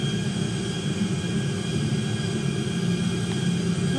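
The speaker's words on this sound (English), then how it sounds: "Nobody flies a plane as good as me." Airplane in GTA V, its engine droning steadily and loudly throughout with a constant low rumble and a whining hum, with no voices.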